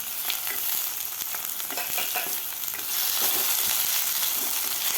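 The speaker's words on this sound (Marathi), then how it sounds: "तर यामध्ये आपल्याला 1 मीडियम साईजचा टोमॅटो घेतलेला आहे, ते घालणार आहे मी." A medium tomato dropped into browned onions frying in a pan for chickpea chhole masala, loud steady sizzling with stirring scrapes and a brighter hiss rising partway through.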